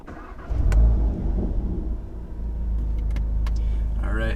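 A 2019 Volkswagen Golf R running a low torque tune drives on the road, its engine a steady low drone that swells briefly, settles, then holds even and fairly loud, with no voices.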